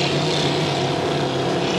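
A vintage hydroplane race boat with its engine mounted ahead of the pilot, an old four-cylinder Ford-derived motor, drones with a steady, loud, purring roar that stays constant throughout.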